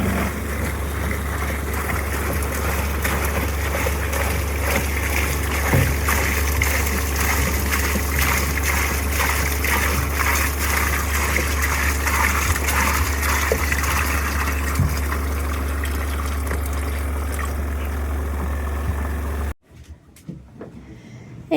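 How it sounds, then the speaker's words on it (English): Spin dryer on a solar-powered setup spinning dirty water out of washing, a constant loud humming whir with watery rushing that runs steadily, then stops abruptly near the end. "I've popped it in the spinner so we can spin all the dirty water out."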